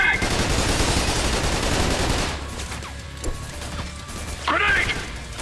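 Rapid sustained gunfire from Trepang2 with heavy automatic bursts, loud and dense for about two seconds, then scattered shots, mechanical clatter and a final flurry, alongside shouted squad callouts.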